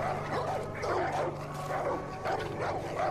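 Dogs in the video game Far Cry 5 bark and yip in repeated bursts over a steady low background hum, at moderate volume throughout.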